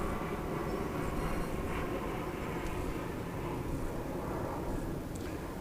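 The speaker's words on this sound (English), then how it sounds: ".737 going into Boeing Field." A Boeing 737 flies overhead on approach into Boeing Field on Puget Sound, a steady loud engine roar that holds throughout with no break.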